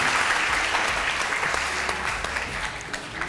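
Studio audience of a Pakistani television morning show breaks into loud, continuous applause, many hands clapping together in a steady wash of sound with no talking over it.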